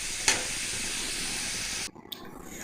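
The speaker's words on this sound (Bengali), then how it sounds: "সেজন্য মাছটা ভালো করে কষাই নিতেছি।" Fish fries in a pan with a steady, moderately loud sizzling hiss that breaks off abruptly near the end, leaving quieter background sound.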